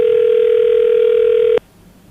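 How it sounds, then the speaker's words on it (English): A telephone line tone during a radio call-in show sounds as one steady, loud electronic tone with no break. It holds for about a second and a half, then cuts off sharply and leaves quiet background. "The phone is ringing."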